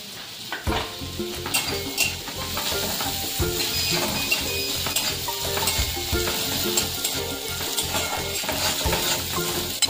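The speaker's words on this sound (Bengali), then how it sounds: "দিয়ে দেওয়ার পরে আদা আর কাঁচা লঙ্কা কুচি দিচ্ছি।" Chopped ginger and green chili fry in butter and garlic in a pan, a steady loud sizzle with frequent clinks and scrapes of a utensil stirring against the pan.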